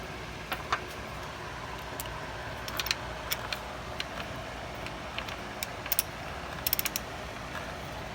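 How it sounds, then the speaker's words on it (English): Ratchet wrench tightening a spark plug into the head of a Ford 4.6 modular V8, giving soft, irregular clicks spread over several seconds against a steady low background hum, with a quick cluster of clicks near the end. "reinstall your spark plug, which I have done. I just need to tighten it up a little bit."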